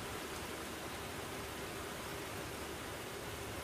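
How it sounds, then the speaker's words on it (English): Dense, steady rain pours down, a loud uniform hiss with no pauses or other sounds. "We have a lot of rain coming down right now, and it's a little noisy on this side."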